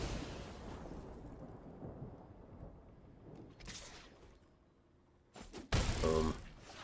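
A Lightning Strike spell effect in a card video game: a low rumbling buildup, then a sharp crackling thunderous burst that booms loudly and briefly before fading.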